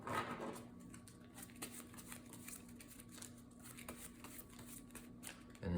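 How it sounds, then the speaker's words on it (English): Cards riffle and shuffle in quick, papery bursts at close range, with soft handling noises between them and no talking. "And then let's shuffle up the player deck here."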